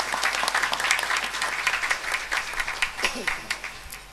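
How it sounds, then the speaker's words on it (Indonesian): Audience applause for the Purwodadi hosts at a Na'am Grupo and Tari Sufi Nuswantara gathering, a crowd clapping steadily while a voice talks over it. "tepuk tangan tuan rumah ini"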